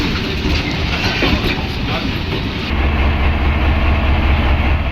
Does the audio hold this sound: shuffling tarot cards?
no